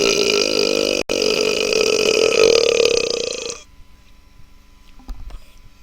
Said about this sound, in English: I feel like I have to burp.